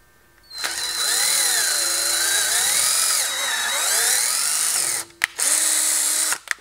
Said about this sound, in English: you gotta be careful because you'll be pushing as it drills through and you won't be moving forward very far